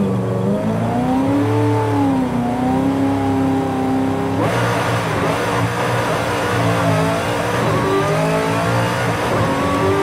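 A Camaro Z28 set up for drag racing revs and launches in Forza Horizon 5, its loud engine note rising and falling through gear changes, with no talking over it.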